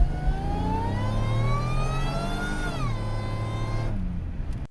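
Supercharged GM 3800 V6 swapped into a Pontiac Fiero revs up with a steadily rising whine, peaks near three seconds, then drops back to a lower steady idle-like drone before cutting off; loud and close, no talk.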